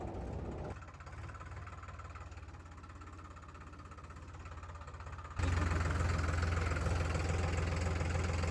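A tractor engine idles and runs with a steady knocking diesel throb, growing noticeably louder and closer partway through, with no talk over it.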